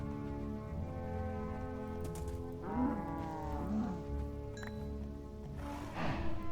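Cows in Minecraft with the Middle Earth mod give several drawn-out moos one after another, fairly close and clear over a steady game background.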